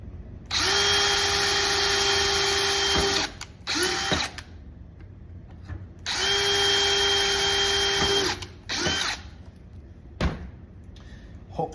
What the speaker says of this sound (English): we're gonna take our drill and we're just gonna drill right here